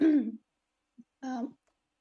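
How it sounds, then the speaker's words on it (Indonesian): A person gives a short throat-clearing cough, a rough burst followed by a brief tail, with a second harsh cough after a short pause; close and fairly loud against silence. "kok batuk ya"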